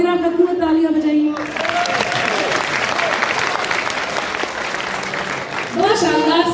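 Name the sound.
audience applauding at a poetry recital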